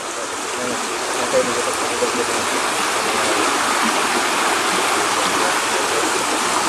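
A river now runs over a disused railway track near Ciroyom station, producing a loud, constant rushing of flowing water heard close up throughout.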